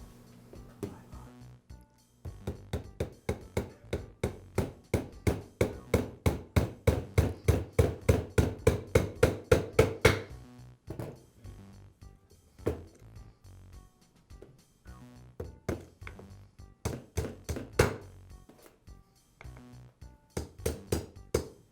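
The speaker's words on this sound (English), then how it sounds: "And now I'll secure it in place with the roll pins." A hammer drives roll pins into the trigger valve of a Ridgid finish nailer, a long run of steady, evenly spaced metallic taps that speed and swell, then slower, scattered strikes, close and crisp.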